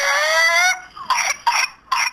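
Young child having a whooping cough fit from pertussis, a drawn-out strained whooping breath followed by three short, harsh, closely spaced coughs, close and loud.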